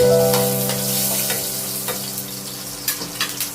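Spice tempering with a slit green chili crackling in hot oil, a loud dense sizzle that fades slightly, with a few sharp pops and spatters near the end.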